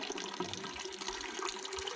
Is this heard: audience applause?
no